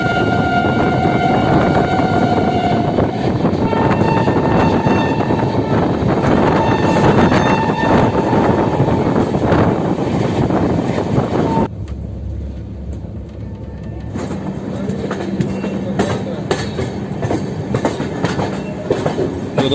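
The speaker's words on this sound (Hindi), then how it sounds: "बिहार संपर्क क्रांति एक्सप्रेस गोरखपुर पहुंचते हुए फाइनली गोरखपुर लेट पहुंची है" The Bihar Sampark Kranti Express, an Indian passenger train, runs loud and close with continuous rolling rumble, rhythmic wheel clatter and metallic squeals, briefly dipping as the surroundings change, then carrying on.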